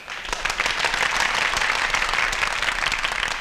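Dense applause from a large crowd at a political rally, steady and loud throughout with no break.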